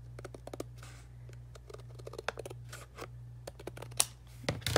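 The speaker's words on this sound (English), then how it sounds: "I'm going to use my longer edge scissors just to trim off the white" Longer-edged scissors trim the white border from watercolor paper in a run of quiet, close snips and crisp cuts over a faint steady hum.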